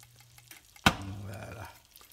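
Butter and flour cook together in a pan for a roux, a sudden loud sizzling burst as the flour hits the melted fat, then a softer fading fry with faint stirring.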